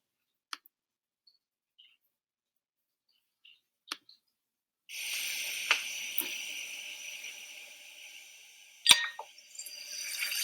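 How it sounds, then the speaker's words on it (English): A seltzer tablet dropped into water fizzes with a steady bright hiss that starts suddenly and carries on, with a few sharp clicks and pops, fairly close. "That's a Seltzer tablet that was thrown into the water, and we see the reaction of the Seltzer tablet"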